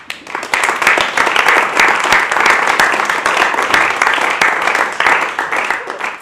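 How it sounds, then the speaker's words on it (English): A studio audience applauds as a performer named Omar comes up, sustained and energetic clapping from a crowd that swells in after a moment and holds steady before easing off. "let's give Omar a round of applause"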